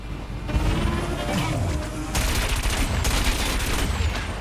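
Missile weapon firing in the futuristic anti-gravity racing game Wipeout 2048, a loud burst with crashing impacts and rapid crackling over a constant roaring engine bed, dense and close throughout.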